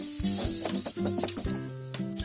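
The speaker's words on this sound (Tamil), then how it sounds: "நல்லா கிண்டி விட்டுக்கலாம்." Homemade sambar powder is stirred in a sizzling pan for pumpkin and dal sambar, a bubbling hiss broken by repeated clinks and scrapes of a spoon against the pan, close up with no speech.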